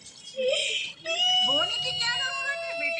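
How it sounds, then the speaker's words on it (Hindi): A young boy who has just lost his first tooth whimpers and cries in rising, wavering sobs, with a short break partway through, loud and close. "अब यहाँ पर आप सुन सकते हैं उनके रोने की आवाज़ें"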